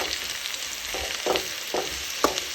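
Jackfruit frying in a pan sizzles steadily while a spoon stirs it, scraping in several short, distinct strokes close by.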